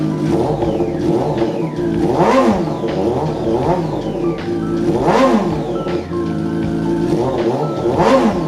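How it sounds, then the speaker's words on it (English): Wrecked Yamaha R1 motorcycle engine running and being revved, loud and close, with repeated sharp throttle blips rising and falling over a steady idle, no talking. "now we're gonna try to turn it on and see how she sounds"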